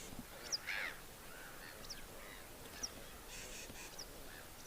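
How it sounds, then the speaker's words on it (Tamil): Crows cawing and geese honking at a lake in the early morning. The calls are short and scattered, fairly faint and distant, over a quiet outdoor hush with no talking. "அங்கே வேறு சில பறவைங்க கூட அப்படியே நீந்திட்டு பறந்துட்டு அழகாக நேச்சரோடு அப்படி இருக்கிறது"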